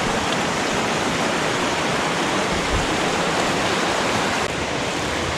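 A small creek flowing past a big rock outcropping where it bends, a steady, close, broadband rush of running water filling the whole stretch without pause or voices.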